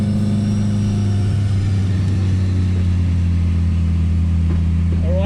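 A race car engine in second gear holds a loud, steady drone with low rumble, growing rougher and crackling through the middle as the throttle is held before a slight change near the end.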